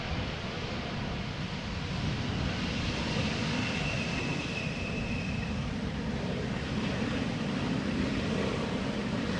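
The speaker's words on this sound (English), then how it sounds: "Embraer 190, Leysieffer Chocolaterie." An Embraer 190 in Leysieffer Chocolaterie livery at Amsterdam Schiphol gives a steady, distant jet roar with a broad rushing hiss that holds evenly throughout, with no voices.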